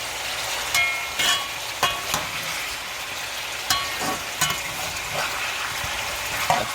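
Oxtail browns in a pot over a high flame with a constant sizzle. Pieces are turned now and then, adding intermittent clanks and scrapes of a utensil against the pot.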